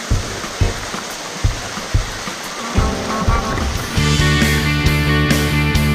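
Rerebe waterfall over limestone gives a loud, steady rush of falling water that fills the whole stretch, with scattered thumps early on and tuneful music joining partway through.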